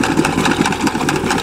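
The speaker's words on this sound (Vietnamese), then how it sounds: "6040 sử dụng động cơ Kubota V2403 bít tông 87, hành trình là 102, công suất là 58 hp" A 6040 tractor with a 58 hp Kubota V2403 diesel engine runs close by, with a loud, steady chugging drone throughout the short burst.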